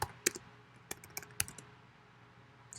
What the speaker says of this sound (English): I'm just really typing characters